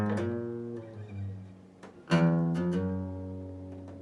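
Part of a song intro on guitar played slowly, with several plucked notes and a louder strum midway ringing out clearly, with no voices.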